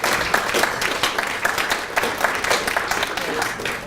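A crowd at a graduation reception applauds the graduates, with steady, moderately loud clapping sustained throughout the short stretch and no pauses.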